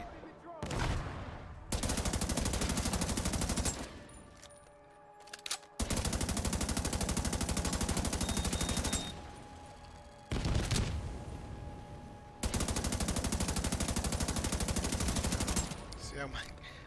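Automatic gunfire in The Division 2, long sustained bursts of rapid shots in several blocks separated by short pauses, loud and close, with faint game sounds between bursts.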